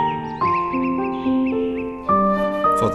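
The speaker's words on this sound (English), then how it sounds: "For the birds that soar in the immense sky." Crows cawing outdoors, several harsh calls that rise and fall over a sustained tonal background, loud and close, with overlapping caws toward the end.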